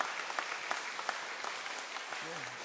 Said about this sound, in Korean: 박수 보내주십시오